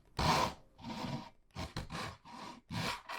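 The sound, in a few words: sanding wood on a cigar box guitar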